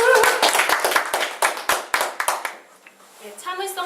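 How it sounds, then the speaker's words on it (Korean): A speaker and audience at a policy talk clap hands together, a run of sharp, close claps in an irregular rhythm that stops after about two and a half seconds, followed by quiet and then a voice speaking. "박수 한번 치고 시작합니다"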